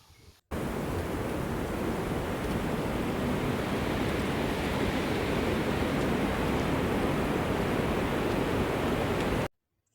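Steady rushing wind, a broad continuous roar that holds constant for nearly ten seconds, then cuts off abruptly.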